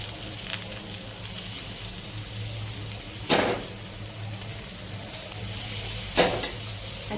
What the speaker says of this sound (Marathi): मीडियम गॅस करायचा जिथे होले तिथं तेल सोडून घेऊया